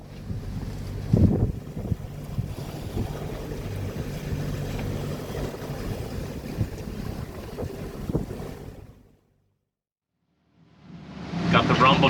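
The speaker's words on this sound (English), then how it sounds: "Got the rumble going in the background. I know, we finally had to kick on the engine" A low, steady boat engine rumble with wind buffeting the microphone, cutting to silence before the noise returns.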